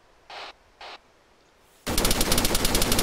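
Automatic gunfire in a video game firefight: two short muffled bursts, then a sudden loud, rapid stream of machine-gun shots close by for over a second.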